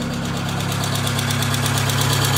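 A car engine idles steadily after a cold start, having sat unused all summer, with a light, rapid valve tick running over a continuous low rumble, close and alone.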